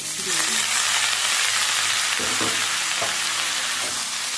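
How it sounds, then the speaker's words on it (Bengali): Chopped raw tomatoes frying with lightly fried onions in a pan, a loud continuous sizzle with several scraping stirs in the second half, no speech. "এটা করে ওর সঙ্গে ভালো করে নাড়াচাড়া করে ভেজে নেব"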